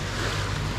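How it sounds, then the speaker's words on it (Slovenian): Strong wind and waves batter a sailing yacht near Biak, Indonesia, a dense, loud, continuous roar of gusting air and rushing water with heavy low rumble and no break. "Takole imamo 3-4 vozle vetra, valove, vse plapola, tolče,"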